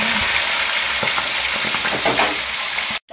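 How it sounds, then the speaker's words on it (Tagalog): Steady, dense sizzling of milkfish frying in hot oil, with occasional crackles and pops, close and continuous before cutting off abruptly at the end. "magpiprito po ako ng bangos."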